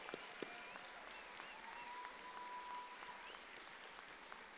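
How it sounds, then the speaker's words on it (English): A college commencement crowd applauds staff employees with a faint, distant, sustained wash of clapping at a steady level, under a thin murmur of voices. "Let's give our great employees a round of applause."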